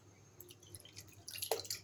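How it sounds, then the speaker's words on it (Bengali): Hot water poured into fried rice for chicken biryani gives faint, close dripping and trickling that swells into a brief louder splash near the end. "আর একটু পানি দেব"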